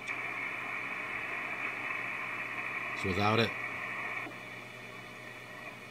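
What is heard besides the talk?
amateur radio receiver audio with DSP noise reduction off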